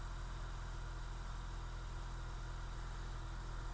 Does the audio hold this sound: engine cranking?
yes